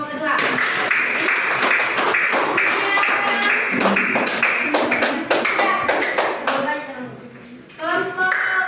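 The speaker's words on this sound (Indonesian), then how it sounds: "Beri aplaus untuk kelompok kedua." Junior high school students in a Class VIII classroom clap for the second group, a dense, lively burst of hand claps with voices mixed in. It thins out toward the end and then briefly swells again.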